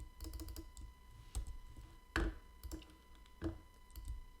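Computer keyboard keys tapped in short, irregular bursts of typing, close and fairly quiet, with a few louder key strikes standing out.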